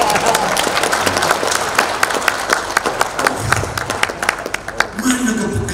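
Audience applause with scattered clapping and crowd noise, moderately loud and continuous throughout, with a voice talking over it.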